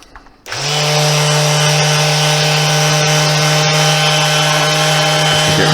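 A power sander runs on wood, smoothing rough edges on a workshop build of clamp storage. It starts after a brief quiet moment, then holds a loud, steady motor whine and grinding hiss with no talk.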